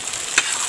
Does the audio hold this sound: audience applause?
no